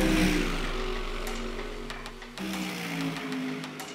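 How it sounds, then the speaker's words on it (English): GT3 race cars at full throttle around the Macau street circuit, a loud sustained engine roar with a steady high drone that dips briefly as one car passes, then swells again. "GT3 cars on full noise around the Macau circuit"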